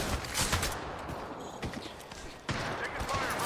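Bursts of video game gunfire crackle through a short firefight, layered with other game effects, while voices talk over the shooting.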